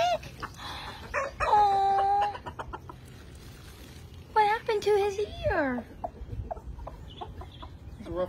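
Farmyard chickens cluck and squawk in several bursts among stray pigs in the countryside, fairly close, with a person talking intermittently between the calls.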